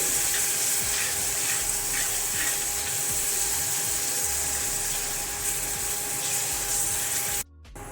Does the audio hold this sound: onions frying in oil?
yes